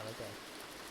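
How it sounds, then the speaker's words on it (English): Heavy rain pours steadily outdoors in the early morning near a lab building, a constant broadband hiss with a faint low hum underneath, loud and unbroken throughout. "The rain's a bit aggressive."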